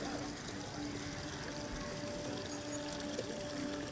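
Water filling a container at a household tap in Mahim, a soft steady pouring hiss with a faint tonal hum running through, no voices heard.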